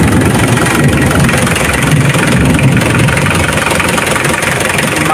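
An engine idles just after starting, with a loud, steady, even running noise that holds throughout and has no talk over it.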